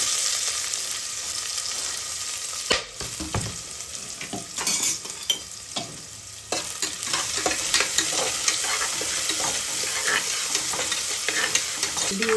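Onions sauté with cumin in a pan for a coconut chicken kurma. Several loud scraping stirs come early, then a steady, close sizzle carries on to the end.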